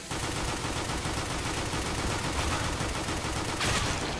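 Dual Berettas pistols firing in the shooter game Counter-Strike: Global Offensive (CSGO): a rapid, unbroken stream of close gunshots, loud and alone with no talking.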